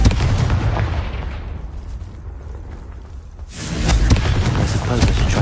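A Confringo explosive spell blast in the video game Hogwarts Legacy: a dense rumbling burst that fades, then a fresh loud blast erupts partway through, with heavy crackling noise.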